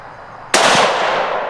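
A single loud rifle shot fired at a deer about 40 yards away while hunting, one sharp close crack with a quick fading tail against a quiet outdoor background.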